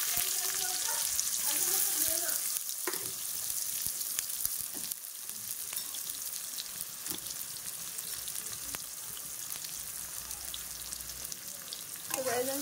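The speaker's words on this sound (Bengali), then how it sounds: "আমার আলুটা ফ্রাই করা হয়ে গেছে, লাল লাল হয়ে গেছে আলুটা" Potatoes frying in oil until reddish-brown, a steady broadband sizzle that stays moderately loud throughout with occasional stirring scrapes.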